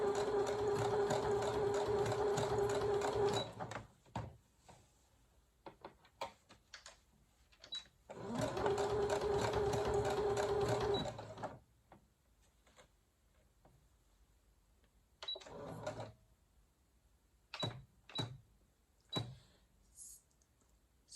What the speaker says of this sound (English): get your machine set up with your blanket stitch, and we will start sewing.